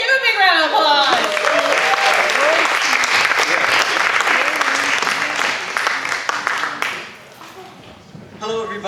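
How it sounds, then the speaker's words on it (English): Loud audience applause welcomes comedian Ray onto a stage, dense clapping with cheers and whoops that swells for several seconds then fades, with a voice speaking near the end. "Please welcome Ray. Give him a big round of applause."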